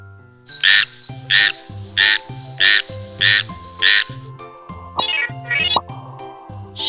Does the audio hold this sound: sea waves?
no